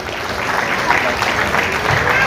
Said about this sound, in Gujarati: જોરદાર તાળીનો ગડગડાટ ભાઈ.